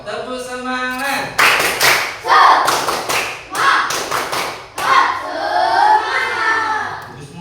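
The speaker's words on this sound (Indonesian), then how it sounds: "Tepuk semangat" A group in a classroom-style session doing rhythmic spirit clapping, loud bursts of patterned claps in several short bouts, with a voice speaking between the sets.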